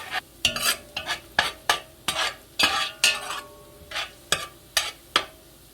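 Garlic frying in a hot pan while being stirred, with a soft sizzle underneath a series of loud, evenly spaced scraping and clanking strokes of a utensil against the pan.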